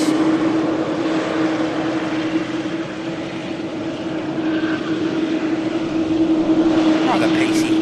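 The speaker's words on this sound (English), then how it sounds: "Rather pacey taxi for the Dreamliner." A Boeing Dreamliner airliner taxis briskly at Manchester Airport, its engines a loud steady whine and rumble with a sustained hum, while a person talks over it.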